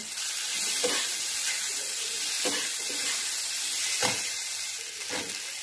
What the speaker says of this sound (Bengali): এবারে আমি এখানে ভেজে রাখা সবজিগুলো দিয়ে দেবো।